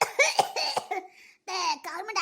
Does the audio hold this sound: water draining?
no